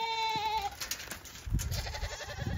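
A soaking-wet goat lets out a wavering bleat nearby after a monsoon downpour, followed by rustling and shuffling movement and a fainter bleat toward the end.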